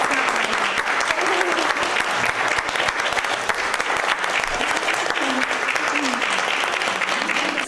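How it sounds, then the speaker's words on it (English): Sustained, dense applause from a large audience at a presentation, steady and loud throughout with no pauses. "let's give her a huge round of applause"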